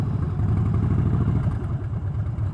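A Harley-Davidson Street Bob motorcycle rides through a city, its engine a steady, loud, close rumble with a throbbing pulse and no voices.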